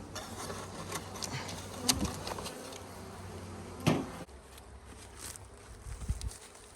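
Honeybees buzz around an open beehive from a nuc split building new comb, a steady close hum with individual bees droning past, broken by a few soft knocks and handling clatters.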